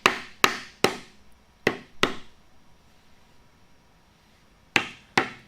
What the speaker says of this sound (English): So sometimes you actually have to go across them like this, like I'm doing right there.